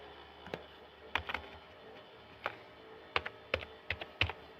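Typing on a computer keyboard, with a handful of sharp, close key clicks scattered irregularly, some in quick pairs, over quiet background and without talk.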